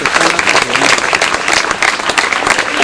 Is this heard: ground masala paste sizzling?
no